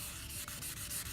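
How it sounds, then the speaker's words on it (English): Sandpaper rubbed by hand over car paint during wet sanding, a soft, even scratching stroke repeated in quick back-and-forth rhythm, faint and close with no voices. "Now we're gonna take our sandpaper, we're gonna sand by hand."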